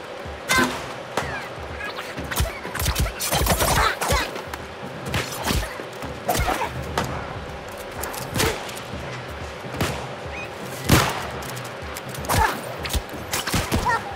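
Gunfire in the online game New World comes as a series of sharp, irregular shots and impacts, some loud and some lighter, scattered among ambient game sounds.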